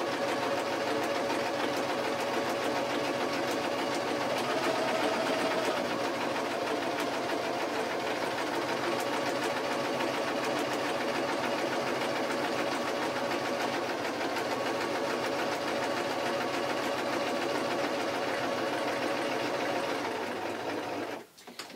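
A sewing machine runs a loose running stitch along the edge of a taffeta baby party dress, a steady fast mechanical whir at close range that continues unbroken before stopping abruptly at the end.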